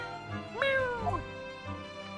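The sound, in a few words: cat meowing in The Great Ace Attorney video game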